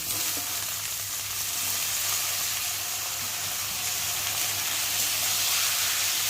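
Loud, steady sizzling of chopped potatoes frying in hot oil after garlic, a continuous crackling hiss close up with no voices.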